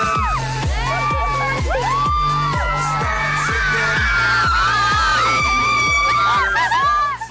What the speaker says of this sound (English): Pete's Bristol bound, where massive crowds have gathered.